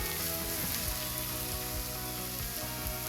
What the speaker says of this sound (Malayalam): ഈ പൊടികളുടെ പച്ചമണം മാറുന്നത് വരെ നമുക്കൊന്ന് ഇളക്കി കൊടുക്കാം.